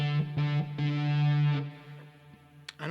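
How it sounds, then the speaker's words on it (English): Electric guitar through a distortion effect sounds a few sustained, buzzing notes with harmonics, separated by short gaps, ending with brief picked attacks; no talking. "I don't think the distortion is doing us any favors"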